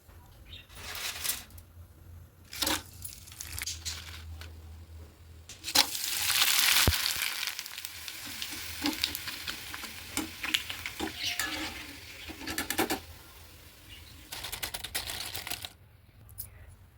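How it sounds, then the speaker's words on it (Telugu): Dried spinach vadiyalu fry in hot oil with a continuous crackling sizzle, broken by clattering stirs and scrapes. A short burst of louder spattering rises partway through, and some voice is faintly present. "వీటిని వేయించుకుందాం"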